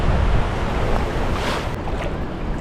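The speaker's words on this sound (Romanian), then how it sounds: "marea asta e așa fermecătoare" Sea waves washing in at a beach in Guraidhoo, Maldives: a continuous loud surf roar with wind buffeting the microphone, steady throughout without pauses.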